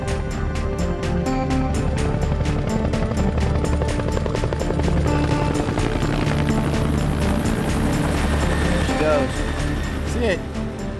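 Military helicopter lifting off during a Navy SEAL and Marine rescue in Somalia, its rotor thumping loud and steady throughout, with voices and other activity mixed into the din.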